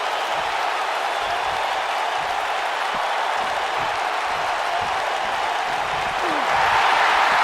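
In the video game WWE 2K19, a large arena crowd at a wrestling pay-per-view roars and murmurs continuously, a steady wash of cheering that swells slightly near the end.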